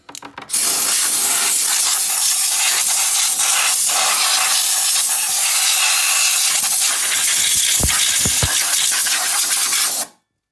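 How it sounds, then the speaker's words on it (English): Brake cleaner sprayed from an aerosol can onto the clutch parts of a Can-Am Renegade or Outlander ATV, one long loud hissing burst lasting nearly ten seconds, close up, ending abruptly. "Clean it out really well before you put anything on. Use some brake cleaner"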